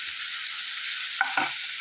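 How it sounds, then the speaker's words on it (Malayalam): Cooked yam goes into a frying pan for a Kerala-style stir fry, giving a soft, steady sizzle with a couple of brief scraping stirs near the end, and no voices. "ചേന ഇതിലേക്ക് കുറേശ്ശെ ചേർത്ത് കൊടുക്കാം"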